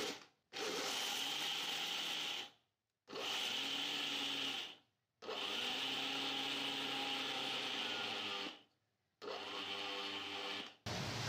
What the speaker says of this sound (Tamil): முந்திரி பருப்பு நம்ம அரைக்க போறோம்